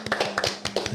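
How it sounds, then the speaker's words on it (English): A few people give a short burst of scattered hand claps for a boxer guest on a podcast. The sharp, uneven claps are close and brief over a faint steady hum, with no talking. "Round of applause."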